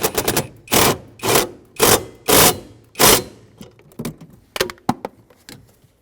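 A bracket bolt being tightened by hand on a 2000-2005 Ford Excursion, with a rapid series of loud, rhythmic ratchet bursts followed by shorter, quieter clicks near the end.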